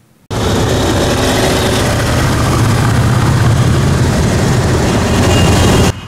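A column of more than a hundred motorcycles rolls through the streets of Volgograd to open the riding season, a loud, sustained low engine roar that starts abruptly and holds steady for several seconds without talk.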